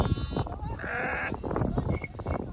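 A sheep bleats loudly and nearby amid rustling and shuffling, with other animal noises and movement in the background.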